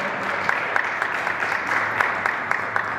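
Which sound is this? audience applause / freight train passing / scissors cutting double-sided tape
audience applause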